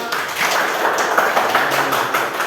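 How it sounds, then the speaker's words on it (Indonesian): A classroom of third-grade pupils clapping together, a brisk dense patter of small hands at close range, steady for a couple of seconds with no voices over it. "Tepuk tangan buat kita semua"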